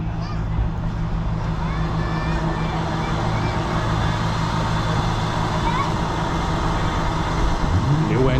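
A restored TTC Excelsior bus with a completely rebuilt engine idles in a garage with a steady low drone, while people talk nearby over the running engine.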